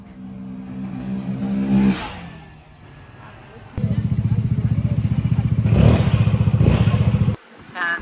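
A Yamaha XMAX scooter with a full CVT setup is revved in a workshop, its engine rising in short bursts and then holding a loud, steady pulsing drone, with people talking over the start.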